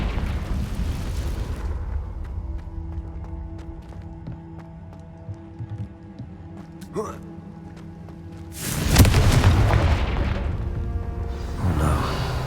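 A Confringo spell explodes in the Hogwarts Legacy video game as a sudden loud fiery burst and rushing roar partway through, after quieter in-game ambience with faint ticks and small effects.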